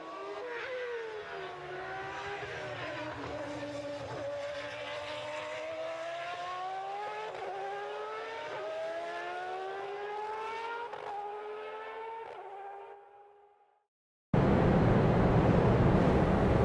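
Street stock race cars roar around Phoenix International Raceway in the iRacing video game, engines rising and falling through repeated gear shifts, then the sound fades out and cuts to a dense, loud burst of noise.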